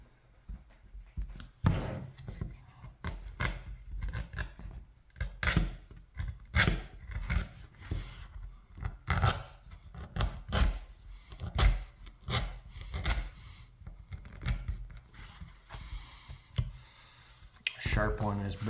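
A groover or lip knife trims the edge of a leather insole in a run of short, crisp scraping strokes close to the hand, repeated at an uneven rhythm, with a voice talking over some of them.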